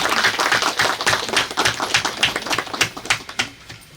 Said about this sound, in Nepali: प्लिज यस्तो तालीले स्वागत गरौँ